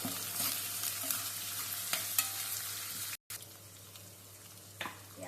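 Onions frying and being stirred in a pan, a continuous close sizzle with soft scraping strokes and a few brief clinks, heard on its own with no talking.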